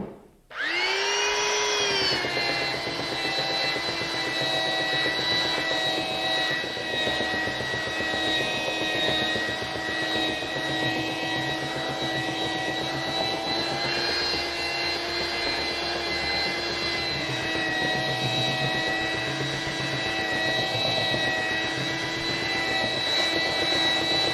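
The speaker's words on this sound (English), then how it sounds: "What I want the belt sander to feel like as I'm moving along is that it's moving across a perfectly flat area." A belt sander flattens a glued-up wooden panel, running as one loud, steady whine that starts abruptly and holds unbroken close by, with no talking.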